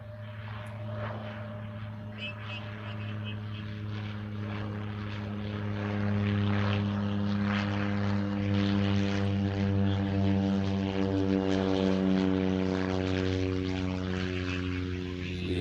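A propeller airliner arriving at Honolulu airport from Kaunakakai on Molokai drones steadily, its engine tone swelling louder as it approaches and staying prominent to the end.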